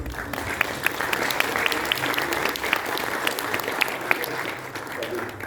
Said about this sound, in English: Thanks to them, and big round of applause.